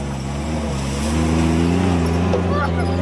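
4x4 with a 4.1 Chev engine labouring up a sand dune, a steady, close engine drone that strengthens as it climbs, with voices talking over it.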